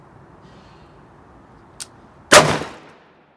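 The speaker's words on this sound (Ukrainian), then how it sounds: "Отже, роблю постріл" A single sharp AR-15 rifle shot cracks out loudly after a quiet stretch, preceded by a brief small click, then fades in a short echoing tail.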